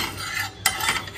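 A metal spatula scrapes and stirs food in a cooking pan with little oil, giving a steady close rasping and clinking texture with a brief louder scrape partway through.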